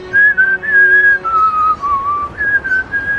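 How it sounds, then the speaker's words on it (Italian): A person whistles a wavering, adventure-style tune alone for about three seconds, sliding between a few sustained pitches with a short dip and rise in the middle. "Cos'è questo fischio?"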